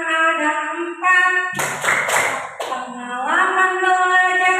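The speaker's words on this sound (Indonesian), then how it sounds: "kita tepuk PM dulu ya, biar lebih semangat" A group of teachers at an Indonesian primary school training session performs a chanted clapping routine, sung voices punctuated by a short run of loud, sharp hand claps in the middle.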